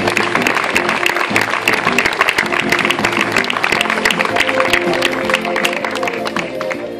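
An audience claps steadily at a tribute ceremony honouring cantinas and bars in Barrial de Gáldar, dense sustained applause filling the hall with some crowd noise underneath.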